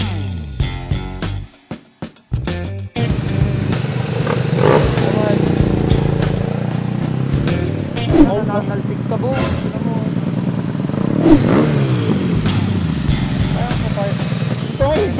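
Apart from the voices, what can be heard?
motorcycle riding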